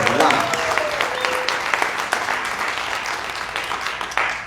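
Audience applause fills an awards ceremony at the 2024 Gary International Black Film Festival: a dense, steady wash of many hands clapping that holds for several seconds, with a few louder claps standing out near the end.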